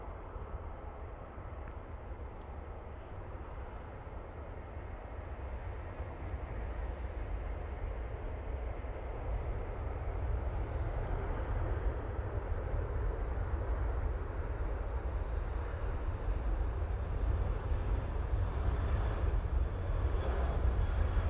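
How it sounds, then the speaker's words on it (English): A Ryanair jet departing Manchester Airport for Faro on its takeoff roll: a steady, distant low jet rumble that slowly grows louder over about twenty seconds, with no talking. "Ryanair now on the roll."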